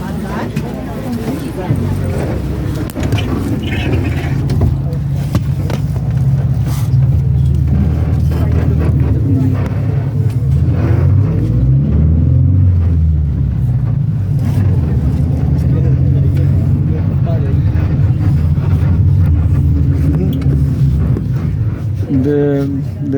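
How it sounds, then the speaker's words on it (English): A broken-down bus keeps running while carrying passengers, its engine a constant low droning rumble that is loud and steady throughout. Voices talk over it now and then. "The bus broke down, but still running."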